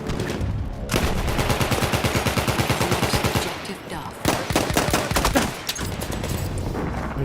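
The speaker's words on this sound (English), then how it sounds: "There's somebody else shooting on me?" Rapid automatic gunfire in the video game Battlefield 1, long sustained bursts of closely spaced shots, loud and dense, broken by a short gap and then heavier fire, with a voice talking underneath.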